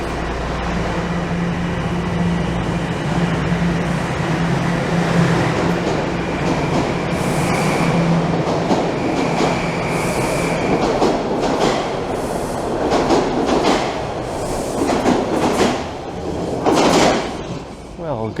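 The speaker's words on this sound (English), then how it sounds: "Sounds like a train is just rolling in." A Toronto subway train rolls into Rosedale Station with a steady rumble and hum, rising whine, clatter and brake hiss over a long stretch, heard from the platform with people talking nearby.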